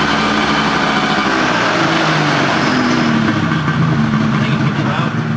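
A 1991 Polaris Indy 650 snowmobile engine idles a little low with a steady rumble, close and fairly loud, with a slightly uneven hum throughout.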